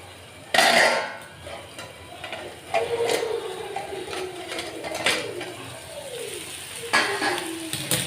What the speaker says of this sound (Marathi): गॅस लो फ्लेमवर ठेवून छान असं परतून घेऊ